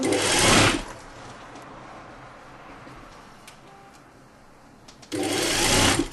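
A sewing machine stitches a short 1 cm seam on a fabric belt, its loud motor whirring in a burst at the start, going quiet, then starting up again near the end, heard close and alone.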